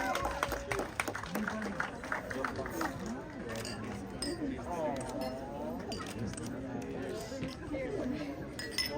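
Glasses clinking in a toast at a red carpet movie premiere night: several bright clinks ring out amid lively crowd chatter, cheering and some clapping, with people talking throughout.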